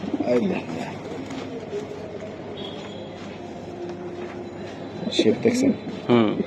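Pigeons coo in soft, low bursts near the start and end, while people talk over a steady background hum.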